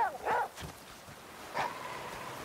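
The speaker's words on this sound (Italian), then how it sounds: "cane, era davvero necessario abbaiare e quindi farci sgamare brutalmente?" A dog in The Flame in the Flood barking twice, short yelps spaced about a second apart over a quiet game background.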